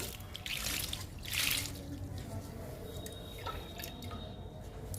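Liquid fertilizer pours and drips onto indoor caladium plants, with bursts of splashing trickle followed by scattered drips, close and moderately loud.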